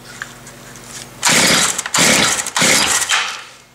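A Stihl FS55 string trimmer's small two-stroke engine is pulled and fires up in three loud, close bursts of sputtering engine noise, each cutting out briefly before the next attempt.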